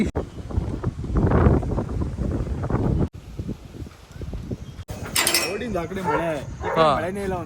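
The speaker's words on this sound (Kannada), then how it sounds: "ಸಣ್ಣ ಗಾಳಿ ಹೊಡಿತೈತೆ" Gusty wind buffets the microphone in rough bursts, blowing dust about outdoors, with voices talking over it in the later part.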